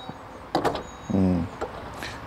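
Power tailgate on an Audi Q5 45 TFSI quattro closing: a couple of soft clunks, then a short whirring hum from the operating cylinder and a final light thud, all close by and fairly quiet.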